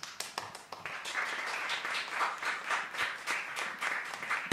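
Applause from a small group during a Japanese band's talk show, with scattered, uneven hand claps building to a steady patter, fairly close.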